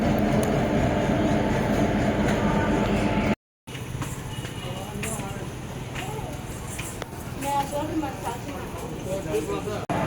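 A MEMU train pulls into Jolarpettai junction with a heavy rolling rumble that cuts out abruptly, followed by quieter rattles and station ambience while people talk nearby.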